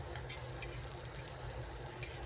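Steady, close sizzling of masala frying in oil on a flat griddle, a continuous crackling hiss with faint stirring scrapes, no voices.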